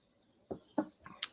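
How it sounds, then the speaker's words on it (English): Birds call outdoors, heard as four short, separate chirps spaced apart, moderately faint against a quiet background with no talking. "I'm still wondering if you can hear the birds."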